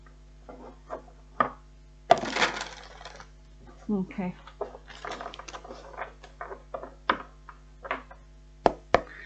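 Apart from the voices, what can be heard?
tarot cards being shuffled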